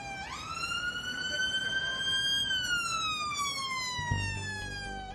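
An ambulance siren wails nearby, its tone sweeping up, holding, then slowly sliding down, over the low rumble of traffic; no one speaks.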